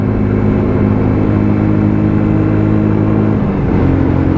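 A WK Scrambler 125cc motorcycle engine drones loud and close at part throttle while climbing a big hill, with a steady buzzing tone that sags slightly near the end.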